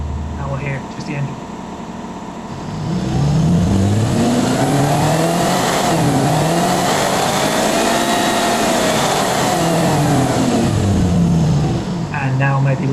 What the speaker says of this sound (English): now we'll hear just the engine.